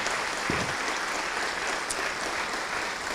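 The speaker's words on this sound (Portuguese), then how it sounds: "Vamos aplaudir ao Senhor Jesus" A church congregation applauds in praise, a steady, even crackle of many hands clapping in a large room, continuous throughout.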